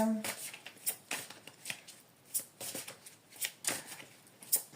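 Tarot cards shuffled by hand for a love reading, a run of quick crisp riffles and flicks close by, with a low voice murmuring faintly underneath.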